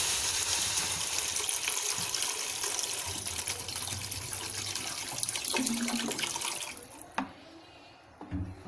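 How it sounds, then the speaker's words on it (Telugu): Water poured into a pot for moong dal khichdi, a continuous close gushing stream that thins near the end and then stops with a light clink. "6 గ్లాసెస్ వాటర్ పోయాలండి."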